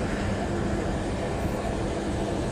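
Diesel locomotives idling at a train depot give a steady, dense engine rumble with no breaks, fairly loud and close, with no clear voices over it.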